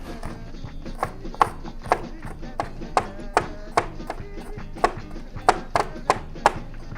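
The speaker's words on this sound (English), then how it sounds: "you cut off the ends of the garlic and any pieces that you don't want to use, and you just cut them up into little pieces" A knife chops garlic into little pieces on a board after the ends are trimmed: close, evenly spaced wooden knocks at a steady rhythm over a soft background hum.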